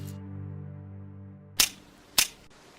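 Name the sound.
gun trigger pulled in Batman scene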